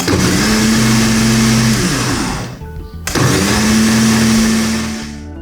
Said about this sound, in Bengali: পুনরায় আবার আমি 30 সেকেন্ডের মতো ব্লেন্ড করে নেব।